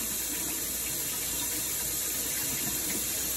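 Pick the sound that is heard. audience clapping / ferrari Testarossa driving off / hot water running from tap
hot water running from tap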